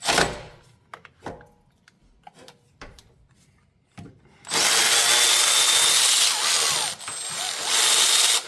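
Bottom bolts being removed from the rear sway bar of a 2018 Mustang: sparse ratchet clicks and taps at first, then a loud, sustained power-tool whir running steadily for several seconds with a brief pause.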